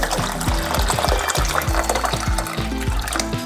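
Hot water pours into a vessel with a bubbling, gurgling fill, punctuated by repeated glugging splashes throughout.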